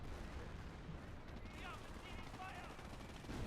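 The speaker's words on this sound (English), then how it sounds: "Oh, here comes the Hummel barrage." A Hummel artillery barrage lands in Company of Heroes, in a Market Garden mod match: a run of rumbling shell blasts and crackling gunfire rolls together, fairly faint, with a commentator's voice talking over it.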